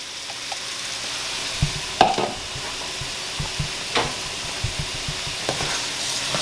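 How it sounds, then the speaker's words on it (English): Rice frying in a pan with cooked onion and celery for Spanish rice, a soft continuous sizzle with scattered scrapes and stirring knocks, fairly quiet, with no voices. "I want it to fry. Okay, you're going to put 1 cup of rice."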